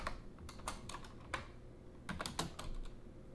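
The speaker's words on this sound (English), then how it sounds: "So just type any string in here." Keys clatter on a computer keyboard in short, quick bursts of typing with brief pauses, close and fairly quiet.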